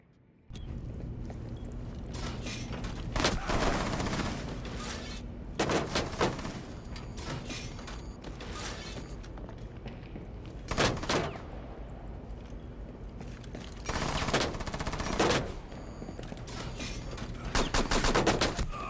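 Gunfire in the video game Rainbow Six Siege: loud bursts of automatic fire rip out in several separate volleys over a constant background din, with no talking.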